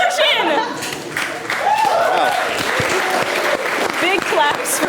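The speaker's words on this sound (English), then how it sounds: "Big claps for me thinking about abortion." Studio audience applause from a late-night comedy show audience, a loud sustained burst of clapping with some cheers and chuckles running throughout.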